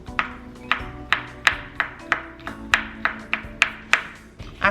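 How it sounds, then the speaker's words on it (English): Garlic minced with a knife on a cutting board: a steady run of sharp, close chopping taps, about three per second, alone without any talk. "Now mince your garlic."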